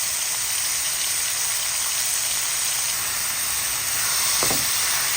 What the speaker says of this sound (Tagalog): Igigisa lang po natin ang ating bawang, sibuyas at ang ating kamatis.